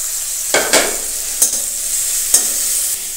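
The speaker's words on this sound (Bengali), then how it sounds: "দিয়ে দিলাম পেঁয়াজ কুচি আর কাঁচা লঙ্কা কুচি, দিয়ে একটু নাড়াচাড়া করে ভেজে নেব" Chopped onion and green chilli sizzle steadily in hot oil as they are stir-fried for fish fingers, with a few sharp scrapes of a spatula against the pan cutting through the constant frying hiss.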